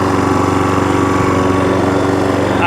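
Hayter 41 lawn mower with a small petrol engine idling steadily, a loud, close, even putter with a regular pulsing beat and no talk over it.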